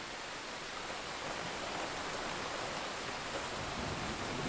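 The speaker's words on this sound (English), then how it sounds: "Enjoy the rain" Steady rain falls in a dense, even hiss that stays close and constant throughout, with no voices or other sounds.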